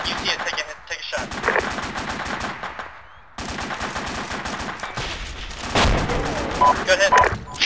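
Repeated rifle and machine-gun fire during an Arma 2 beach landing, dense rattling bursts with sharp individual shots, loud and close, broken by short lulls, with voices talking over the battle.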